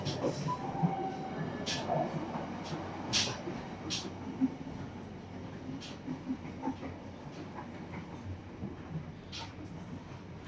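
Cabin noise from inside an executive-class train travelling to Yogyakarta, Indonesia: a steady low rumble and rolling hum with scattered sharp clicks and knocks from the track, continuous and close.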